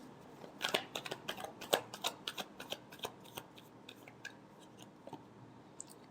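Tarot cards being shuffled by hand, a quick run of crisp riffling clicks and flicks that thins out into a few scattered taps, close and quiet.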